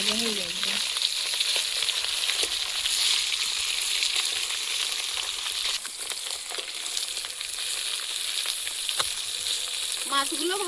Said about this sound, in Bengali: মাছগুলো লাল লাল করে ভাজা হয়ে যাবে।